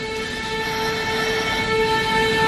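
A train running with a steady rumble and sustained tonal ringing like a horn or brake whine, continuous and fairly close throughout.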